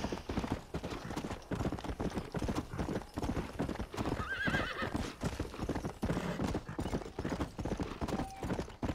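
Horse hooves clip-clop in a rapid, steady gallop rhythm in the Red Dead Redemption: Undead Nightmare video game, loud and continuous throughout, with a brief whinny midway.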